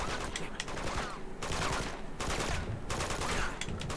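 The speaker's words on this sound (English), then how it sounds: "Where are these shots coming from?" Bursts of rapid gunfire from the Uncharted 2 video game, several crackling volleys in quick succession at moderate level, with a faint voice mixed in.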